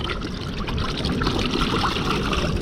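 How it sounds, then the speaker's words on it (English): Salt water trickles and splashes steadily as fish fillets, freshly cut barred surf perch, are rinsed on a beach, a continuous close watery wash with no talk. "We're gonna rinse them off"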